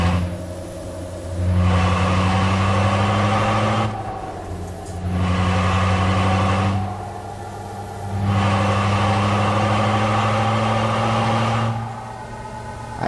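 A Scania truck with a V8 engine sound mod in Euro Truck Simulator 2 revs in repeated cycles, loud deep engine rumble rising and falling about every four seconds, with no talk.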